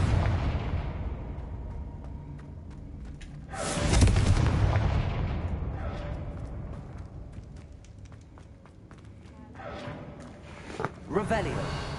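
A Confringo blasting spell goes off in Hogwarts Legacy on PS5 with one loud, booming explosion partway through, then fades. Smaller bursts and pops follow later over a continuous game ambience.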